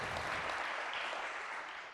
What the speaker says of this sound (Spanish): me ayudan dándole un fuerte aplauso a nuestro grupo de alabanza